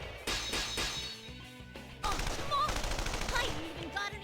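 Rapid bursts of gunfire and heavy impacts crash out in a video game fight in Persona 4 Arena, with dense clattering shots, smashing hits and brief synthetic tones.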